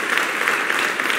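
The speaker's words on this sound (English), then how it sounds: "That's a long applause there" A studio audience at a gospel show keeps up long, dense applause, a loud, continuous wash of clapping heard alone.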